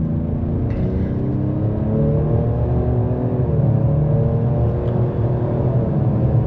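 A 2025 Ford Explorer ST RWD with a 3.0L engine accelerating, a loud, steady low engine drone with smoothly rising tone, heard from inside the cabin.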